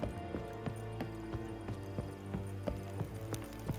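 Horse hooves clip-clop at a steady walking rhythm on hard ground in The Witcher 3, with a low musical drone underneath and the hoofbeats moderately close.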